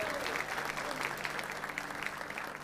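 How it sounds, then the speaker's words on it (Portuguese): A church congregation applauds steadily, a dense, even wash of many hands clapping that holds at the same level throughout. "uma linda salva de palmas"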